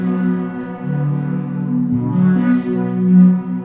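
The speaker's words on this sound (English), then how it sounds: "It's got some delay and it smears the sound." A sustained synth tone sits under heavy delay and a smearing effect, its layered harmonics blurring into lingering echoes that swell and shift in pitch over a few seconds, with no one talking.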